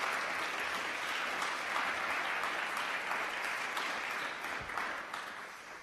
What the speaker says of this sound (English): If you want a round of applause for everybody we mentioned there